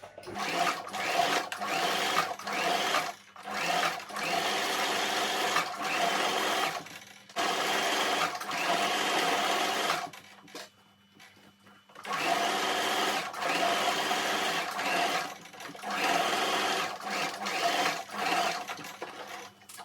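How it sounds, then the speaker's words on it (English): A sewing machine runs in bursts of steady mechanical stitching, stopping and restarting several times, with short quiet pauses between runs. "I'm going to take your fabric to your sewing machine and stitch from here to here"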